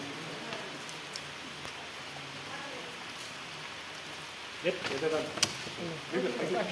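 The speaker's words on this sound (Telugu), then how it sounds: "వర్షం పడుతుంది వర్షంలో కూడా దర్శనం చేసుకుంటున్నాం" Soft, steady patter of rain with occasional drips at a Hanuman temple, quiet in the background, while people talk over it in the second half.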